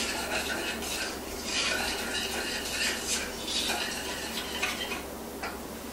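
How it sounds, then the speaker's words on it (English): Cognac cream sauce with meat juices being stirred in a pan, a steady scraping and swishing of a utensil with faint sizzle and occasional clinks, continuous and close. "So I'm going to mix in those juices."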